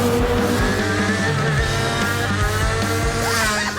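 A shifter kart engine revs hard and steady as the kart accelerates, a loud, continuous high-pitched whine with rising harmonics close to the microphone.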